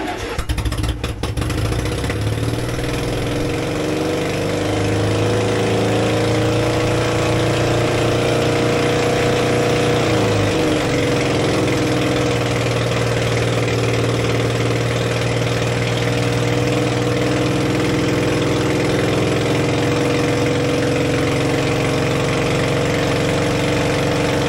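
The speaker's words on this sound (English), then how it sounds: "I'm gonna start up the pony engine and crank over the big engine until we build up oil pressure." A pony engine starts and cranks over the main engine of a 1950 cable shovel that sat unused for over 20 years, a loud, steady mechanical drone with a low hum and no talking.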